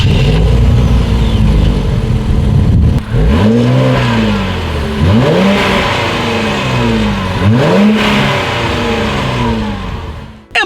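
A 2017 Infiniti Q60 with dual chrome exhaust tips, its engine revved hard three times from a steady idle, each rev rising and falling back, loud and close with no talk.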